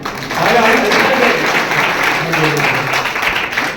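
A crowd at a Janata Dal (Secular) minority wing event in Bengaluru claps steadily to welcome guests on stage. The applause is dense and sustained, with voices faintly mixed underneath.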